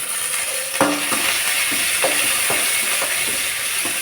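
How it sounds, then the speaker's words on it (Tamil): Curry leaves hit hot oil already frying chana dal and dried red chillies for an okra stir-fry, a continuous crackling sizzle broken by several sharp clicks of a spoon stirring against the pan. "இப்போ கருவேப்பிலை போட்டுக்கலாம்."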